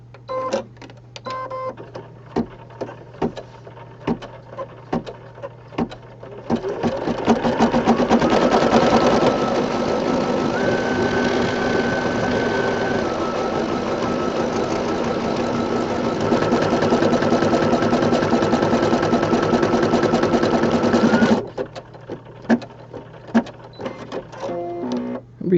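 An embroidery machine stitches a blue section of a rainbow design on a 4x4 hoop, running a steady, loud mechanical whir for a long stretch, with sparse clicks and taps before and after.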